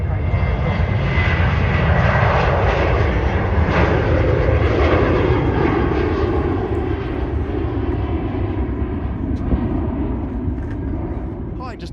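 An airplane passes very close overhead at Manchester Airport with a loud, continuous engine roar that holds steady, then fades slightly toward the end.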